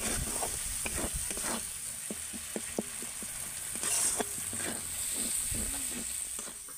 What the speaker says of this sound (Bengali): এবার আমি মশলাগুলোকে ভালো করে কষিয়ে নেব।